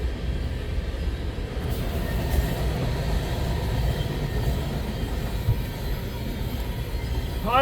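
CN freight train B790 rolls past hauling potash loads south of Ladysmith, Wisconsin, a steady loud rumble of wheels on rail with a brief squeal near the end.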